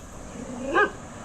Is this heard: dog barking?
yes